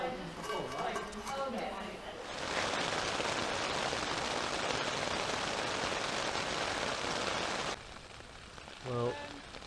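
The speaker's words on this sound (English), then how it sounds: "especially as it's raining outside" Rain falls outside a small covered shelter on a West Highland Way hike, a broad, steady wash of drops that swells in the middle, while voices speak at the start and end.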